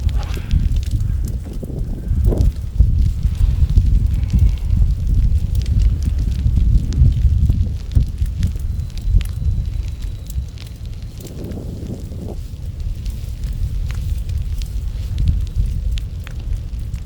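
A prescribed fire burns through a field section on an eight-acre food plot in the Missouri Ozarks, a continuous deep roar and crackle mixed with gusting wind buffeting the microphone close by.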